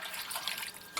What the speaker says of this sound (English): I'm just going to put enough water here to cover the potatoes